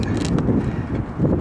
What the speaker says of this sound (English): the wind is kicking up way too much